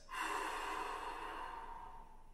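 A single long pursed-lip breathing exhale, a steady, breathy hiss of air pushed out through narrowed lips that starts abruptly and fades slightly over about two seconds.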